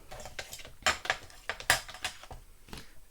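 Scissors cutting cardboard for a Halloween box, a handful of sharp crisp snips and clicks spaced irregularly, close and fairly quiet with no talk.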